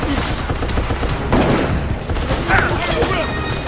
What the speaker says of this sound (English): it's so depressing shooting with this pistol.